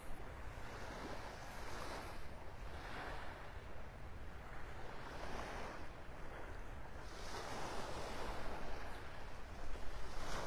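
Gulf of Mexico surf at Delnor-Wiggins beach in North Naples, a steady wash of waves with gentle rising swells every couple of seconds, mixed with wind buffeting the microphone and no talking.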